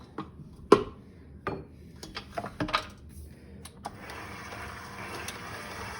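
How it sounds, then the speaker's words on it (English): A spatula scrapes around a mixing bowl of cake doughnut batter, giving a few brief scratchy clinks and scrapes close by, followed by a soft steady rustle, with no talking. "I'm just going to go ahead and scrape down my bowl"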